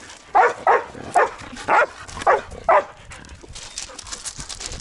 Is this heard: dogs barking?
yes